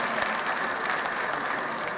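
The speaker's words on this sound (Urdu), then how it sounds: "بھرپور تالیاں" Audience applause fills an Urdu poetry recital, a dense, steady wash of many hands clapping at even loudness throughout, with no voices standing out.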